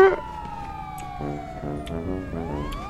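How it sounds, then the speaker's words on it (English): A police siren wails steadily in a roleplay video game, its tone gliding slowly downward. Faint clicks and game noise sit underneath, and no one speaks over it. "siren check"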